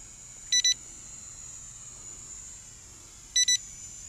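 An HDRC S6 drone gives two brief, high-pitched double beeps about three seconds apart, set over a faint steady hiss with no talking.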